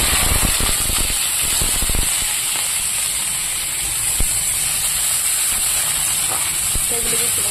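Sliced onion and garlic hit hot oil with black cumin in a wok, producing a loud, continuous hissing sizzle close by with a few clatters early on and no talk over it.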